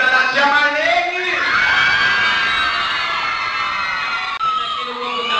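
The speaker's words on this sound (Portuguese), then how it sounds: "E a torcida da tia Marlene!" Children and adults at a daycare Christmas party cheer, whoop and yell loudly for tia Marlene, a dense, continuous crowd roar with shrill children's shouts throughout.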